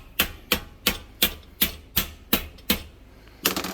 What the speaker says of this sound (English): But with the rubber hammer